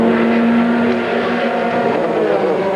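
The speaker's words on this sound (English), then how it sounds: "The car fires up, not a problem." A race car engine fires up and runs during a pit stop while refueling at the 2003 Petit Le Mans endurance race, a loud steady roar with a strong droning hum throughout.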